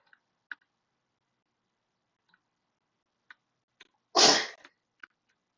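A single sharp sneeze bursts out near the end, close and loud, among a few faint scattered clicks in otherwise quiet surroundings.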